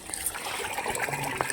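Water trickles and splashes softly and steadily while basmati rice for biryani is washed nearby.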